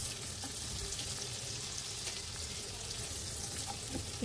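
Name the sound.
onion and garlic frying in soybean oil in a pan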